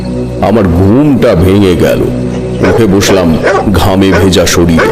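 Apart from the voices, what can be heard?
distant dogs barking, audio drama effect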